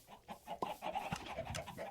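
A chicken in the Minecraft game clucks in a quick run of short, choppy calls, close and fairly quiet, alone without talk.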